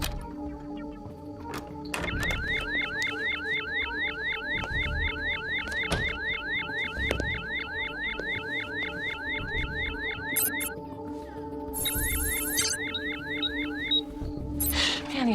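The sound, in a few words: house security alarm going off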